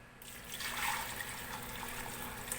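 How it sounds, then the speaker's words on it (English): Chicken stock is poured into a gumbo pot over the sautéed trinity, giving a soft, steady trickle and splash that swells briefly and then settles, fairly quiet and close, with no talking. "So what I'll do now is I'll pour some of this stock in here"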